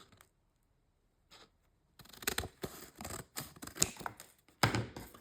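Scissors snip through the top of packaging near the staples, a quiet pause giving way to a run of close, crisp cutting and crinkling sounds.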